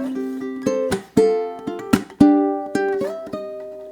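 Ukulele plucking a short alternate ending lick to a song, a quick run of bright picked notes with sharp attacks, some hammered, ringing out alone and close.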